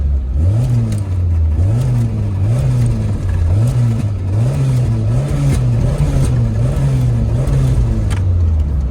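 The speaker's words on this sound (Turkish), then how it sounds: "Bir egzoz patlatsak." A Doğan SLX car's exhaust as the engine is revved repeatedly, the pitch rising and falling in a regular series of about eight blips close to the microphone, with no talking.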